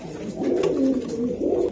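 Pigeons, including a baby Budapest pigeon, give soft repeated low coos in two or three close phrases, near and clear with no talking.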